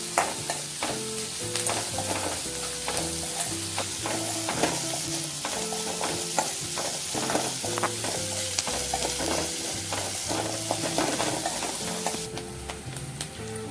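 A tempering sizzles and fries in a hot pan while being stirred, giving continuous crackling and spattering with scattered sharp pops and the occasional scrape of a utensil, loud and close.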